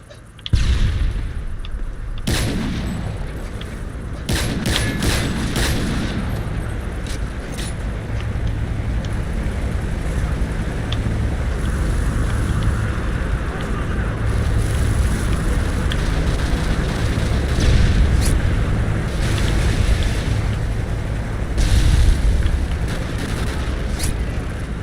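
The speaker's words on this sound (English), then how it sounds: "Friendly strafe run incoming." A friendly airstrike strafe run in the video game Modern Warfare 3, heard as a continuous loud roar of rumbling explosions and rapid cannon fire lasting throughout, with a few sharp bursts early on.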